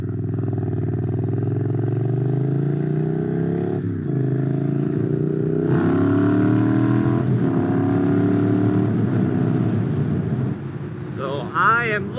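Motorcycle engine droning steadily while riding through slow rush hour traffic, pitch rising and falling with throttle changes, with a person talking over it throughout.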